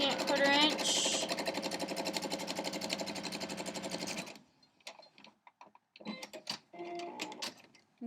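Sewing machine stitching a scant quarter-inch seam on quilt fabric: a loud, rapid, close rattling run for about four seconds, then stopping, followed by quieter handling sounds and a voice talking.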